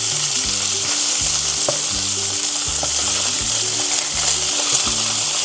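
Food sizzling and frying steadily in a pan at close range, a continuous crackling hiss broken by a few small pops, with no talk over it.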